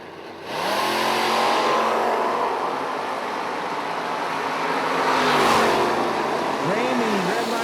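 Maverick drag car launching at a footbrake drag race, a loud engine roaring up and revving hard from a near-silent start, with a second burst of revving later, all under a public-address announcer's voice.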